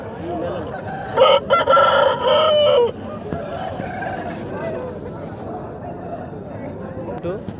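A Kaki Nemali breed rooster crows once, loud and close, at a busy Sunday chicken market in Piler, over a constant background of crowd chatter and nearby voices.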